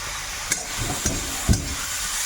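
Spices frying in a pan with tomato, salt and turmeric, a soft steady sizzle with a few brief clinks and scrapes of stirring, close and moderately quiet.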